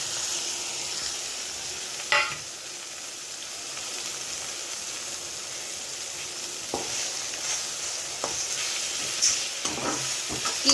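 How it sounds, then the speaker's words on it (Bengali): Three eggs fry in a pan, giving a continuous bright sizzle and hiss, with a few sharp crackles and spits scattered across the steady frying noise and no one speaking. "এবার এই 3টে ডিম দিয়ে দিচ্ছি"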